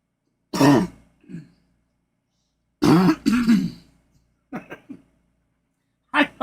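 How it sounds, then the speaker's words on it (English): A person coughs and clears their throat several times in short separate bursts with pauses between them, close and fairly clear, with no other sound around. "I got to raise my hand so it don't hurt when I cough"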